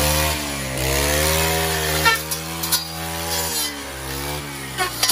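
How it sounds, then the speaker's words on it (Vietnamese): A powered branch-cutting saw runs steadily through thorny rose canes and dense blackberry brambles, its engine droning close and loud with pitch dipping and rising as it bites, plus brief snapping of branches. "đang dùng cái máy cắt cành cây để cắt toàn bộ những cành hồng và khóm blackberry đầy gai rậm rạp"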